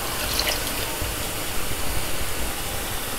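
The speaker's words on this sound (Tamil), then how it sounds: "இந்த ஸ்டேஜில் நம்ம எடுத்து வச்சுருக்க புளிக்கரைசல்" Tamarind extract poured into a simmering fish curry, a steady broadband splashing and gushing of liquid that stays loud and even throughout, with no talking.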